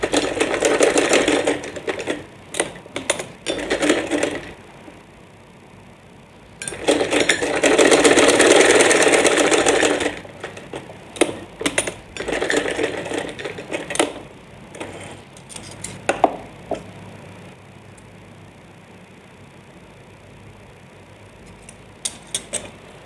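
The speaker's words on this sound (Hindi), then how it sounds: "यहाँ से भी और इस साइड से भी बिल्कुल इसी तरह सिलाई लगाएंगे।" A sewing machine stitches a boat neck suit or kurta. Several loud, close bursts of rapid mechanical clattering come in stop-start runs, separated by pauses filled with clicks and fabric handling.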